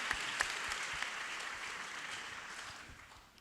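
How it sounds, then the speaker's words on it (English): A crowd at an evening gathering claps together in a steady, moderately distant round of applause, with a few sharper individual claps near the start, fading away after about three seconds. "I just want to give you guys another round of applause."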